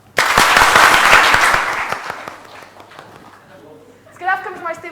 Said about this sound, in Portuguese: Vamos só treinar as palmas.